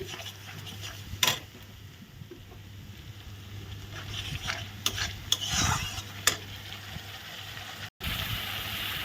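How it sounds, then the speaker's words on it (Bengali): Vegetables frying with cumin and chili powder are stirred in a pan, giving soft scraping and a few sharp clinks over a steady sizzle and low hum, close by, ending in a brief dropout. "জিরা লঙ্কার গুঁড়ো দিয়ে দিলাম এখন ভালো করে মিলিয়ে নিচ্ছি"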